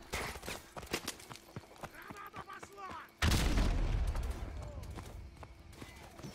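Video game gunfire in Modern Warfare Remastered: a run of sharp repeated shots, then a sudden loud sustained burst of fire and rumbling booms, with voices talking in the mix.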